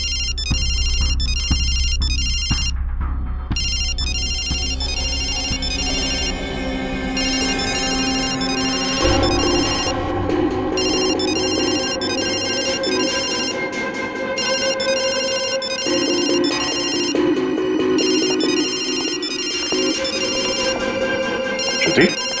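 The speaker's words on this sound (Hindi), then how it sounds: "पायल का ये फोन, इसका रिंगर, ये ट्रिगर है" A mobile phone ringtone plays a repeating electronic melody nonstop, loud and close, while background music and voices carry on underneath.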